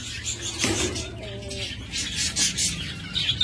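Caged pet birds, such as lovebirds or budgerigars, chirp and twitter in short, overlapping calls with a brief whistled note, sounding fairly close. A bit of background noise mixes in.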